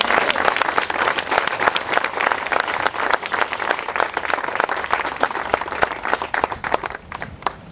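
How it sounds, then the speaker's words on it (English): Loud, sustained applause from an audience honoring a board chair at a CCA event, dense clapping filling the whole stretch with a few scattered cheers mixed in. "I think you really deserve a big round of applause and a bravo"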